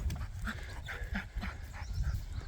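Four or five dogs on a farm pant rapidly and excitedly, a dense overlapping stream of breathy huffs close to the microphone, with no speech.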